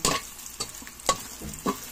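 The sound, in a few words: squid balls frying in oil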